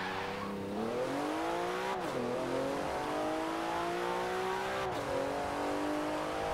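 A Porsche 911 accelerates in the video game Forza Horizon 4. Its engine note climbs steadily through the gears, with two brief dips at the shifts, and stays loud and close throughout.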